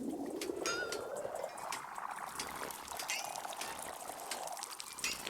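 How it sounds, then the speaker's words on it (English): Tea being poured out onto a tree in the video game Wanderstop, a soft continuous trickle of liquid with faint chirps above it, fairly quiet throughout. "we're gonna pour it out"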